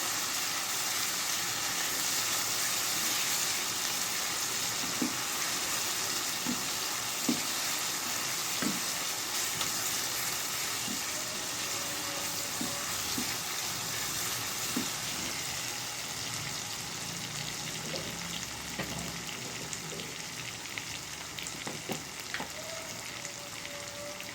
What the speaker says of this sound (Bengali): আর রসুনটাকে বেশ কঠিন কষিয়ে নিতে হবে